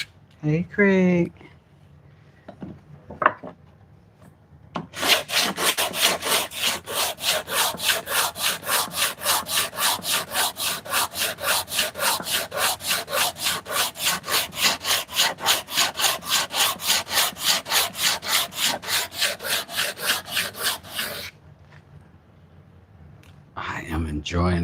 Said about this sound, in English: I am enjoying this sanding so much.